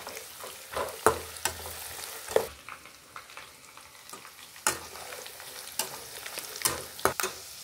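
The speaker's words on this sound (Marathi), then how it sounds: "आता सर्व साहित्य व्यवस्थित परतून झालेलं आहे" Poha ingredients, including cucumber and coconut, being sautéed in a pan make a close sizzle broken by repeated sharp spatula scrapes and knocks at an uneven pace, with a quieter stretch in the middle and no talking.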